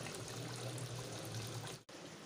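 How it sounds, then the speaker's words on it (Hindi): Cooking oil, the same oil used earlier to brown onions, is poured into a pot of tender beef for Deghi beef qorma, giving a steady, dense liquid splash and trickle that runs unbroken before a brief drop-off near the end. "जिस तेल में हमने प्याज ब्राउन की थी वही तेल डाल देंगे"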